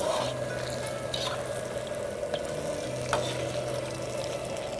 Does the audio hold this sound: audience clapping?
no